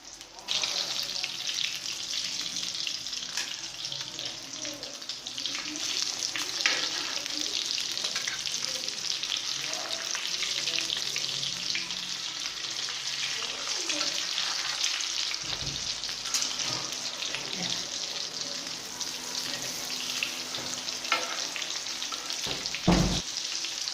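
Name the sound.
potato tikki (aloo tikki) frying in oil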